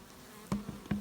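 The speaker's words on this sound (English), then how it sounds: "Look at the bees." Faint buzzing of honeybees close by at a hive fed syrup, with a few louder passes as individual bees fly near, otherwise quiet.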